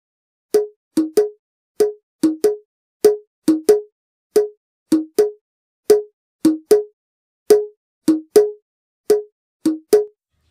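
Octapad playing a Dadra jhankar percussion beat with both hands, a steady pattern of short, sharp plopping hits in repeating groups of three, clear and close with silence between strikes.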